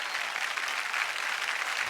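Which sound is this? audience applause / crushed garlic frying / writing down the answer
audience applause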